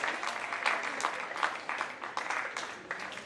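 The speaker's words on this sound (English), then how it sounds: "give them a round of applause" Applause for cross country runners at a middle school awards assembly: an indoor audience claps steadily, a dense patter of many hands at moderate distance, with faint voices underneath.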